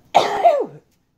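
A single person's sneeze, one sharp burst about half a second long that rises and then falls away, close to the listener and heard alone with no talk.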